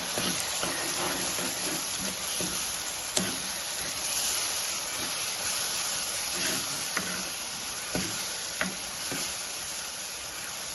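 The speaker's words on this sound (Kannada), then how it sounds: "ಎಣ್ಣೆಯಲ್ಲಿ ಸ್ವಲ್ಪ ಹೊತ್ತು ಫ್ರೈ ಮಾಡಿಕೊಳ್ಬೇಕು." Ground masala sizzles steadily in hot oil while being fried for a drumstick leaves curry. A continuous close hiss is broken now and then by soft stirring clicks.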